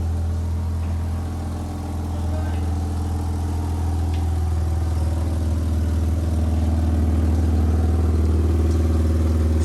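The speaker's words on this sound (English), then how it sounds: "How does she drive? Great. like a brand new car." A car's engine runs steadily while driving, a loud, continuous low drone with a faint rise in level partway through and no voices.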